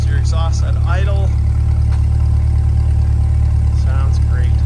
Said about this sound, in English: Here's your exhaust at idle.